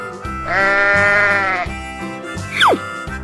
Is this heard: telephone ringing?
no